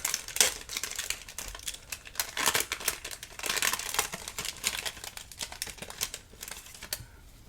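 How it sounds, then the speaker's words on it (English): Plastic wrapping torn off a Spellbinders card kit and crinkled up close, a dense run of crackling and rustling that carries on for several seconds with no talk. "I'm just going to open this here and get rid of this plastic since it's loud"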